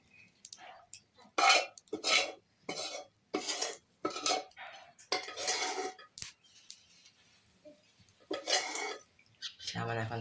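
Metal spoon stirring onions cooking in a pan for a Gujarati vegetable dish, irregular scraping clinks and clatter in bursts, close and fairly quiet, with brief quiet gaps between strokes.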